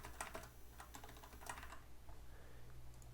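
Someone types a text document on a computer keyboard in quick, irregular bursts of close, light key clicks over a steady low hum, with the typing pausing near the end.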